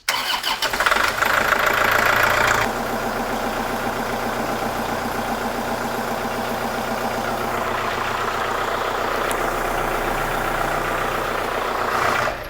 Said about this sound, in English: now we're going to start the machine back up and run our ram 2 out with the bolt in the cylinder